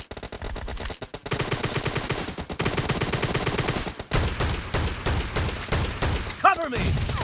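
Shotgun blasts from an M1014 in the PUBG Mobile game, fired in loud, rapid repeated bursts that run almost the whole way through, with a short pause near the middle, mixed with game noise and voice callouts.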